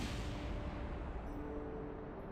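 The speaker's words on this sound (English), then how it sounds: "Okay, that was a big explosion." A big ship explodes in the video game Kerbal Space Program, a deep rumbling blast that fades slowly into a low roar, fairly quiet overall.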